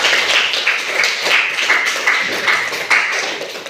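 A classroom of students claps for a classmate, a dense continuous patter of hand claps with light rhythmic peaks, steady and close throughout.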